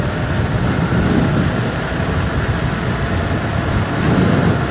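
A Super73 electric bike with a 72V Sabvoton controller runs at full speed, giving a loud, constant rush of wind and road noise with no speech.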